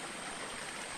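A stream rushes over a water crossing on a road trip to Dabarkhol waterfall in Odisha, a continuous broadband splashing roar, close and steady, with no voices.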